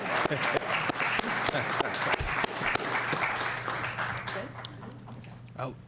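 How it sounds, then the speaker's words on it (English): Moderate applause breaks out from a small group at a school committee meeting, steady overlapping claps that thin out toward the end, with people talking over it. "Yeah, okay, we'll clap."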